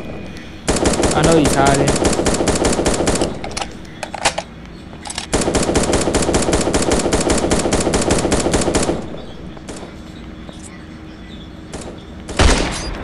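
Automatic gunfire in an off-brand Fortnite-style shooter game: two long, rapid, loud bursts separated by a short pause, then a single sharp shot, with someone talking in between.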